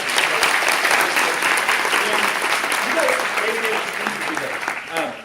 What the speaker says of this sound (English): now, we have a great big round of applause for our